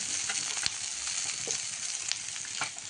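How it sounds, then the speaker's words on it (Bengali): Potatoes sauté in a pan in a Bengali kitchen, giving a steady, bright close sizzle with a few faint utensil clicks and stirs. "আলুটা আগে কষে নিচ্ছি"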